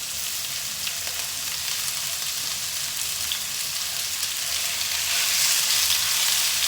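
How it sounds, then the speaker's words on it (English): Beef pieces sizzling and frying in a hot pan for a stew, a steady close hiss of searing meat that grows slightly louder near the end, with no talking. "when this beef goes into the pan, it should sizzle, so you can hear it really"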